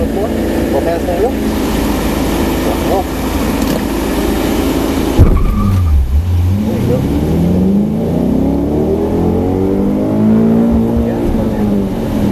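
A Shelby GT500 accelerates hard with the gas pedal pressed to the floor, a loud close engine roar that breaks off midway, then rises again as a sweeping rev with harmonics climbing through the gears.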